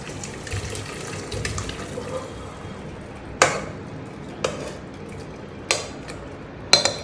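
Water is poured off a cooking pot at the stove into a sink, a soft running splash under a low background, punctuated by several sharp clanks of the metal pot.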